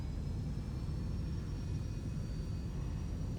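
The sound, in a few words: aircraft engine at full throttle in X-Plane 11 video game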